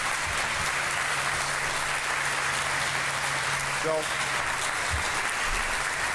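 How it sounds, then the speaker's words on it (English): Audience at an LAX Airport Police facility ribbon-cutting ceremony applauds steadily for the project teams, a dense, even wash of clapping lasting throughout, with a brief spoken word near the end. "you guys all deserve a round of applause"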